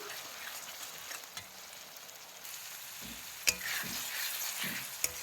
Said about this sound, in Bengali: আদাটাও ভালোভাবে পেঁয়াজের সাথে একটু কষিয়ে নিচ্ছি